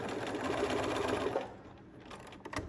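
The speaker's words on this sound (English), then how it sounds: "back stitch just a second to make sure that it's secure" A sewing machine back stitches across the end of a seam on a hooded towel, a steady close whirring run of about one and a half seconds that stops, followed by faint handling clicks.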